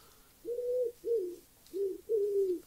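Four soft, rounded coos from a Minecraft pigeon, evenly spaced and close, sounding alone over faint background hiss.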